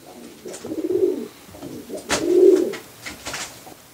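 Two low, rounded pigeon coos in succession, each a soft throaty swell, with a sharp click between them and faint background noise.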